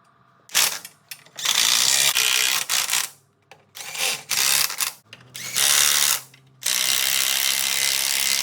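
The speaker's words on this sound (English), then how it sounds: "Let's get this bolted on." Ratchet clicking while a cylinder tube is bolted onto a Swinger Bee 1600 engine under repair, heard as several loud, close bursts of rapid pawl clatter separated by short pauses, ending in one long steady run.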